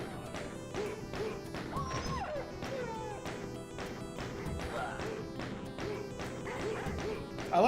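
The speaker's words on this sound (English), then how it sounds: "I like how the dogs make human sounds when they're just taking damage." Dogs in the video game Resident Evil 2 yelp and grunt as they take damage, repeated bursts amid busy game noise and impacts throughout.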